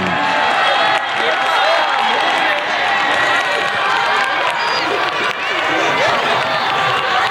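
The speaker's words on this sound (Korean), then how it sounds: "오마이걸에게 여러분 큰 박수 부탁드리겠습니다" A concert crowd at an Oh My Girl stage cheers and claps in a dense, continuous roar of applause and shouts.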